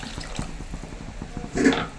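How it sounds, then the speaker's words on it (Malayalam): Water is poured into a Kerala-style sardine and taro curry in the pan, a short close splash and trickle lasting a couple of seconds. "ആവശ്യത്തിന് വെള്ളം കൂടെ ഒഴിച്ചു കൊടുക്കാം"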